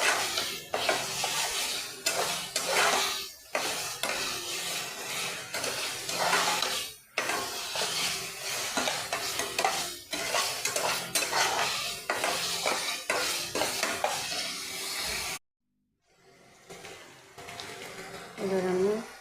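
Green peas sautéed and stirred with salt in a pan for a dhaba-style paneer matar, a steady sizzle with repeated scraping and clinking of the spoon against the pan and a short silent gap near the end.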